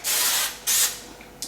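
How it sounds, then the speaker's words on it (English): Cooking spray hisses onto a brownie pan for s'mores brownies in a home kitchen, with two long close bursts followed by a short third spritz. "So we're gonna spray that whole pan."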